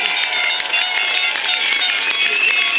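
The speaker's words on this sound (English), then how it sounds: "So round of applause for the Somerset Premier." Crowd at a Cup Match celebration in Somerset claps and cheers loudly and steadily, a dense wash of many hands with a rising, celebratory energy throughout.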